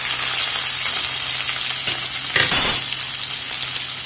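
Onions sautéing in a pan for Madras style aviyal, a steady hot sizzle and frying hiss throughout, with a brief louder burst of stirring near the end.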